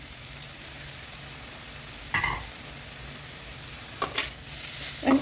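Soaked, drained poha fries quietly in a pan, giving a faint steady hiss broken by a few short scraping stirs, with a louder scrape near the end.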